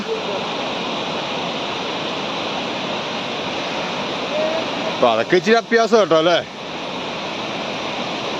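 Anachadikuthu waterfall in Kerala, a constant loud roar of falling water close by, with a person talking briefly over it.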